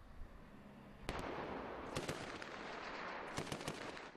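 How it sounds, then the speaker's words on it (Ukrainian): Heavy weapons fire during a border guard training exercise, with sharp bursts and individual shots cracking out over a constant loud roar, several clustered reports coming near the end. "У ворогу працює важке озброєння."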